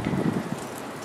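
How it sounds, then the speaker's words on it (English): Wind gusts buffet the microphone outdoors on a windy high spot, a brief rough rumbling blast that dominates the short moment with no speech. "And it is windy up here"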